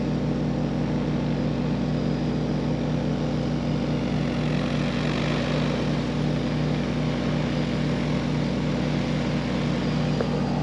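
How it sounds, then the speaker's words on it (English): An agricultural spraying drone flies over a corn field, giving a continuous loud, steady droning hum of spinning propellers that holds constant throughout with no pauses. "You can see the drone coming at us now."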